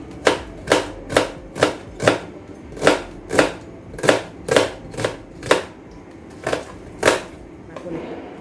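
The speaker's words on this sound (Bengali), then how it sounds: "এবারে আমি পেঁয়াজ কুচি করে নিচ্ছি।" A knife chops onion on a cutting board for a Bangladeshi hotel-style mixed vegetable dish, with about a dozen sharp, evenly spaced strikes that fall close and clear before tapering into a few softer final cuts.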